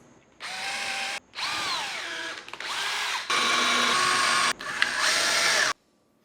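A power drill whines through several short bursts while drilling pilot holes in wood, its pitch rising and dipping as it bites in, with brief pauses between runs.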